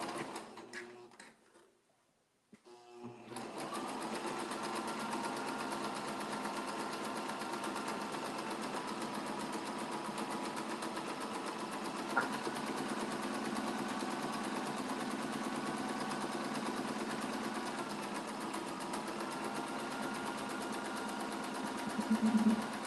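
A sewing machine stitches quilt block pieces for a flying star block, running in a steady unbroken whir for about twenty seconds after a short pause, close and moderately loud with no voices.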